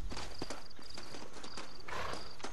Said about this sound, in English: Let's call in good old Horsey Horsey